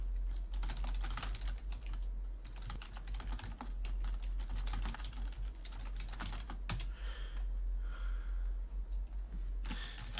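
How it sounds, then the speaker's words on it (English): Rapid typing on a computer keyboard, clattering steadily and fairly close for about ten seconds over a constant low hum, with no talking. "Now I need to type because I can't talk."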